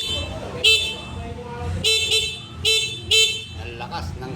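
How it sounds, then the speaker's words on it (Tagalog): Horn of an AET Super A 138 electric bike sounds in several short, loud toots, repeated four times over a few seconds. Someone talks in the background. "Ang lakas ng kanyang busina."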